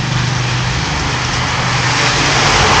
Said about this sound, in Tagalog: Inabutan na naman tayo ng ulan.